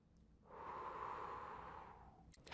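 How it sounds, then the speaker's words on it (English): Breathing in the physiologic sigh pattern of two stacked inhales followed by a long exhale, heard here as one soft, steady breathy rush lasting about two seconds, close and quiet. "a 1 second inhale stacked by a 1/4 second inhale, then a 2 second exhale"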